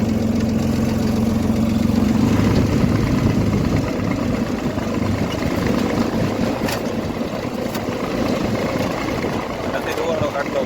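A tractor engine runs at a steady idle, a loud continuous low rumble with a droning hum that fades after a couple of seconds, while people talk over it.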